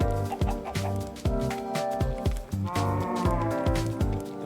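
Minecraft chickens cluck in a steady repeating pattern, several birds overlapping close by with nothing else heard.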